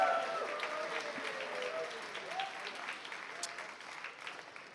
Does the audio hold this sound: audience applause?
yes